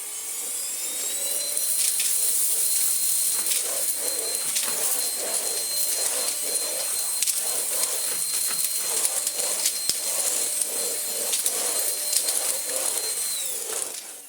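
A Greenote GSC40 cordless vacuum cleaner runs on max power with a steady high-pitched whine and a rushing suction hiss, broken by rattles and clicks of debris being sucked up, close and continuous until it cuts off at the end.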